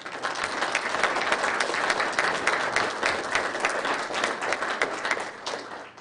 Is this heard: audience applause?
yes